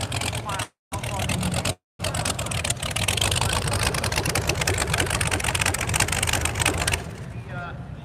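At a drag strip, a straight-axle drag car with open straight pipes roars loudly and steadily nearby, its harsh engine note cutting out briefly twice early on before settling into a sustained rumble that fades near the end; voices may sit beneath it.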